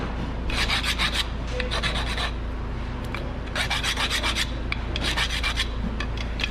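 Brake pad edges being ground on a 2016 Nissan Pathfinder, a steady raspy rubbing in repeated bursts over a constant low hum, close and fairly loud.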